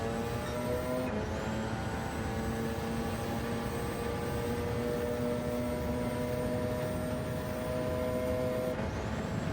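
A racing car engine in a video game gives a steady, loud drone with sustained tonal whine for the whole stretch, shifting pitch briefly near the start and end, with no voices.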